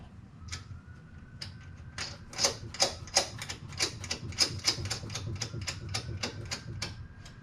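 Metal suspension bolts on a Nissan S13 coupe coilover install being run down snug with a ratchet, a fast series of crisp, close clicking ticks in steady rhythm over a low background hum.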